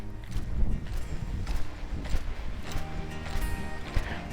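A small Western horse cantering, its hoofbeats thudding in a steady rolling three-beat rhythm at moderate distance, fairly loud and continuous with no talk over them.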